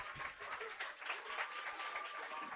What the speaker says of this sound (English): Gets a little round of applause.